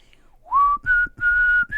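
A clear, close whistled melody of a few sustained notes, one gliding upward into the next, the intro of a song, played alone without talking.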